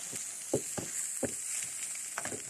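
Quiet frying hiss with a series of irregular scraping, clacking strokes as glass noodles are stirred and tossed in a pan, sticking to it; no speech.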